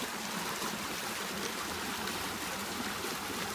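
A small front creek swollen by a flash flood, carrying debris, rushes steadily at close range as a continuous broadband wash with no speech.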